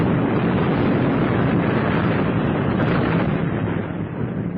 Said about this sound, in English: An explosion rocked the building